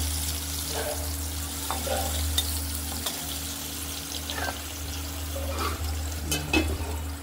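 Potatoes fry in oil for a rohu fish curry, making a steady, moderate sizzle over a constant low hum. Occasional soft clinks and stirring sounds break through.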